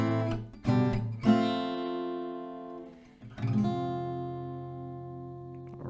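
Acoustic guitar chords from the bridge of a song: a few sharp downstrokes, then a pause and another strummed chord left to ring out, close and fairly soft, with no voices.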